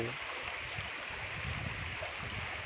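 The swollen Sutlej river, running high and carrying heaps of grass and debris, gives a steady, even rushing wash that fills the short stretch without pause.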